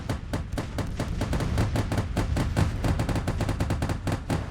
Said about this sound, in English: These are Gatling guns.